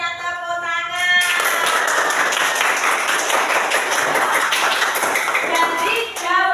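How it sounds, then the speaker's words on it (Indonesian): A classroom of students claps together after a group discussion, a brief voice giving way to several seconds of lively, close clapping that stops abruptly, followed by a little talk. "Coba semuanya tepuk tangan."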